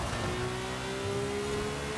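Race car engine in Forza Horizon 5 holding a steady, loud drone with a slowly rising pitch as it accelerates along a track, without voices.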